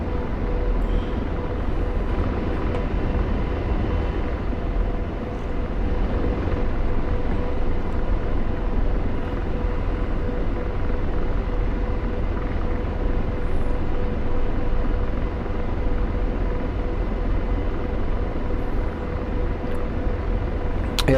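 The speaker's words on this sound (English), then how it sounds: "I'm just in an Apache, so it feels like I'm going backwards." Steady rotor and engine drone of an Apache helicopter in flight within a combat video game, a continuous loud hum holding evenly across the whole stretch with no other sound breaking through.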